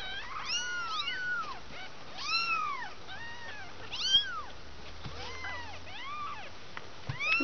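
Two-week-old kittens meowing nearby, a string of high, thin mews overlapping in an irregular rhythm, fairly soft and with no talking.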